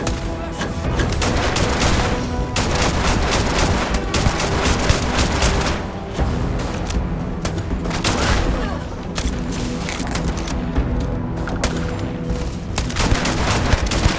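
Heavy gunfire rages in the Starfield sci-fi video game, loud, dense volleys and rapid bursts running continuously through the whole stretch with barely a pause.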